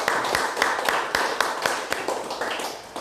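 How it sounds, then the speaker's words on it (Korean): A church congregation at a Sunday service claps in thanks, with sharp hand claps in a loose, roughly steady rhythm heard close and moderately loud against a diffuse background of many hands. "부모 되신 분들에게 감사하는 박수 한번 좀 했으면 좋겠습니다."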